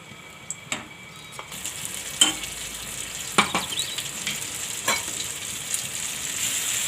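A peanut and dried red chilli chutney is stirred in a pan over lowered heat: a soft continuous sizzle with a few scattered scrapes and knocks of the spoon against the pan, close by and with no talk.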